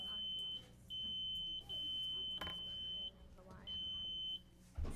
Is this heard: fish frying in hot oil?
no